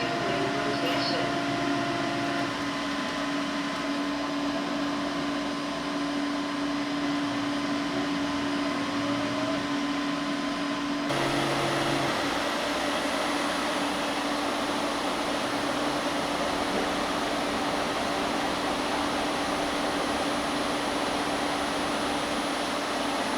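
A Roborock F25 ACE wet dry vacuum running its self-cleaning and fast drying cycle, with a steady whirring motor drone and an airy fan hiss that steps up louder partway through, continuous and close.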